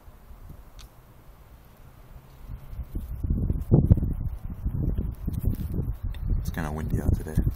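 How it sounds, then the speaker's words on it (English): Outdoor wind buffets the microphone, building into strong, gusty low rumbles after a quieter start, with light rustling underneath. "It's kind of windy out today."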